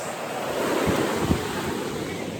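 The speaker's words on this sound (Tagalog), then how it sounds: "Ayan po yung dagat." Sea waves wash onto a Bicol beach under strong wind buffeting the microphone, with a steady surf roar and a couple of low thumps of gusts.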